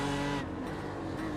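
A race car at the Nurburgring 24 Hours, its engine droning loud and steady at close range through the whole moment, with no voices.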